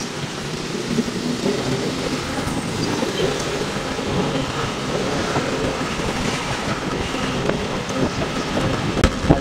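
A steady, loud rumbling roar of an elevated LRT light rail train passing continuously along MacArthur Highway, dense and sustained throughout with no pauses or voices.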